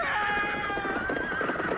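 Horse neighing as a radio drama sound effect, set on a country road where a barouche drawn by a six-horse team rounds a bend at full speed; a loud, sustained whinny runs throughout, with faint hoof clatter underneath.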